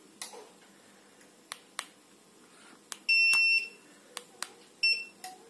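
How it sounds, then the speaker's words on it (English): Soft clicks of button presses on a Sonoff iFan02 smart switch in a quiet room, with high electronic beeps, one drawn out and another short pair near the end. "Each and every press, it will give beep."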